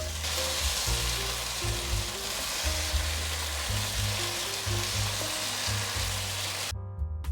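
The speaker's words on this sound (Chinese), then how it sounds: "给它翻拌均匀" Bitter gourd and potatoes stir-fry in a pan after mushroom soaking water is added, making a steady, close sizzle and bubbling that runs throughout, with a low hum underneath and no talking.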